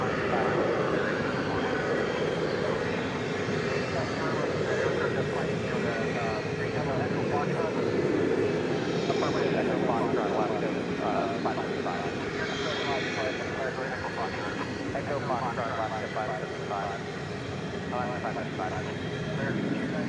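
An American Airlines Boeing 737-800 touching down at DFW at night, heard as a steady, distant jet rumble and hiss under intermittent talk.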